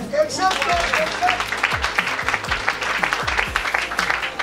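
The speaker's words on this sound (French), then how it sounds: "On peut acclamer?" An audience applauds at a pastor's birthday celebration in Kinshasa, with steady dense clapping throughout and a voice speaking over it.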